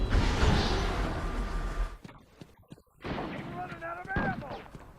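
Gunfire in the video game Batman Arkham Asylum, a loud burst of rapid shots and blasts filling the first two seconds, then a brief lull before further crackling and whooshing game effects with a voice speaking over them.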